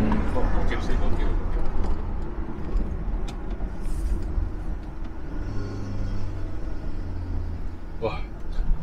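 A modified Toyota Innova Reborn with a Stage 2 tune accelerates hard, its engine rumbling loud and steady under road noise while people talk inside the car.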